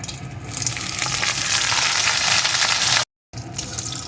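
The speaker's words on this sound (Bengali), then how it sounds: "এখন এর ভিতরে আমি কয়েকটা বিউলির ডালের বড়ি দিয়ে ভেজে নেব" Urad dal bori fry in hot mustard oil with a loud, dense, continuous hiss and crackle, cutting out abruptly for a moment near the end before resuming.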